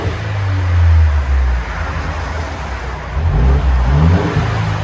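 A 2019 Mercedes C300 turbo with dual exhaust and a muffler delete revs loudly up close, its deep engine note rising and falling through two surges with no voices over it.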